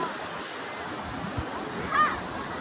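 Sea waves washing around rocky shoreline at Yangma Island near Yantai, a steady broad wash of surf with a slightly stronger surge near the end, wind noise over the microphone.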